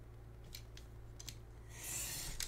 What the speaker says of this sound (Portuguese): Ele tem um pontilhado ali no arquivo, então você vai cortar e vai tirar